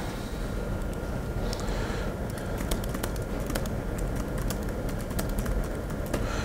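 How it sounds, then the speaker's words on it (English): Fingers tap out text on a computer keyboard during an educators' tutorial on building a social network, with irregular clicky keystrokes coming in quick clusters over a low steady background hiss and no talk. "you'll notice I'm typing this in right here myself"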